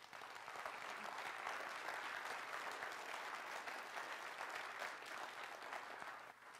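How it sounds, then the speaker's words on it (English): An audience at the City of Minot State of the City address applauds steadily, a dense sustained wash of clapping that holds for several seconds before easing slightly at the end. "Give yourself a round of applause."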